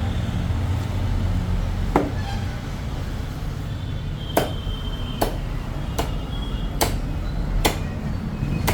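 A cleaver strikes barramundi seabass as it is chopped into curry pieces: a slow series of about eight sharp, hard chops, irregular at first then evenly paced, close and loud over a steady background hum.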